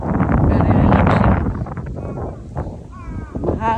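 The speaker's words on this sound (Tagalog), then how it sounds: "Mahangin, masarap ang hangin." Wind blusters hard across the microphone in an outdoor spot, loudest at first and then easing into a lighter rushing, with a voice speaking over it.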